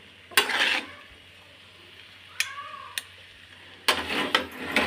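Chicken noodles stirred in a home kitchen pan, with two short bursts of scraping and sizzle at the start and end, a few sharp clinks of utensil on pan between them, and a quiet pause in the middle.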